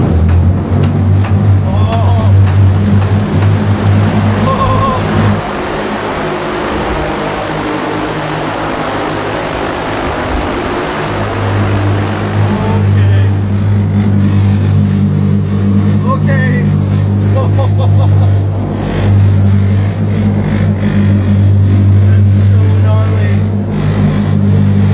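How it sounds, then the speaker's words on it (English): A passenger flying car in flight in China gives off a steady droning rotor hum with strong low tonal bands that stays loud and continuous throughout. "I'm in a flying car."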